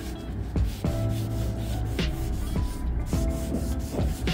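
A rag rubs and swishes across wooden boards in repeated strokes, with soft scraping and occasional knocks, close by and fairly quiet.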